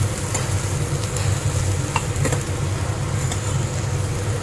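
Okra bhaji with crushed roasted peanuts is stirred in a pan over a medium flame, with a close, steady sizzle broken by soft scraping strokes of the spoon.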